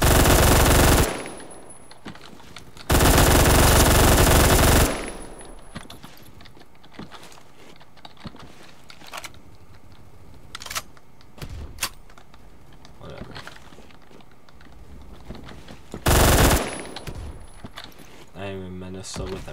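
Rapid automatic gunfire from M231 and Boxy Buster weapons in a video game, loud sustained bursts opening and closing the stretch, with sparse clicks and shots and a voice talking in between.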